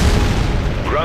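A ground target explodes in the jet combat game H.A.W.X 2, heard as a dense, loud low boom that rumbles steadily through the whole second, with radio chatter running over it.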